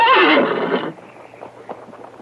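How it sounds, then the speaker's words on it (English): A horse lets out a loud, close whinny for about a second, followed by softer snorts and shuffling sounds. "Oh, horse didn't like it."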